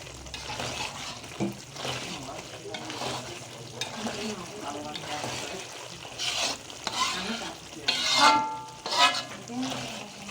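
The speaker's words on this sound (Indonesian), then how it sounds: "ikan yang sudah kita tumis kita goreng sampai kuning" Tilapia fish frying in hot vegetable oil gives a steady low sizzle with occasional stirring clatter. It stays fairly quiet throughout, with no clear talk.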